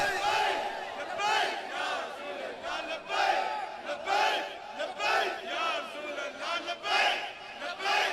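A large crowd at a religious gathering chants religious slogans in loud, rhythmic bursts, voices swelling together again and again over several seconds.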